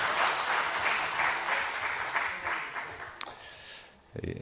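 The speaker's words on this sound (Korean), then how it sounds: "박수로 감사를 돌리시겠습니다" Church congregation applauding a visiting men's choir after a hymn at a Sunday worship service, sustained room-filling clapping that thins and fades out, followed by a brief knock.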